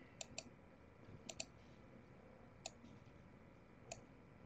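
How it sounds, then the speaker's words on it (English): Sparse clicks of someone typing on a computer keyboard come in small clusters of two or three taps with long gaps between, faint and distant over a low room hum. "Someone is typing"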